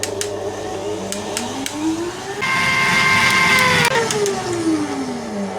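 Electric mixer whips eggs with sugar, a whirring motor that rises in pitch and grows louder midway, then winds down, with a few clicks at the start and no talk.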